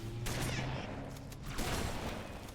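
Shotgun fire in the video game Halo 3, with a loud blast near the start and another around the middle over dense game noise and a low hum, with no talking.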